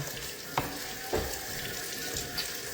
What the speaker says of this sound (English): I'm just trying to rinse this as clean as possible